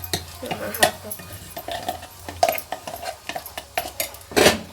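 A couple of dry red chillies frying in a pan for dosa chutney, with a light sizzle under frequent metallic scrapes and clinks of a utensil against the pan, close and lively.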